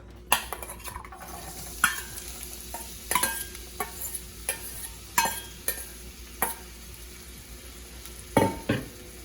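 Onions dropped into hot oil in a frying pan for a chickpea curry, with scraping and clattering stirs against the pan over a steady sizzle, repeated knocks spaced through the stretch.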